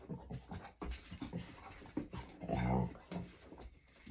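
A dog whimpers and pants close by during a home yoga session, short whiny yips and breathy panting in bursts, with a louder whine cluster near the middle.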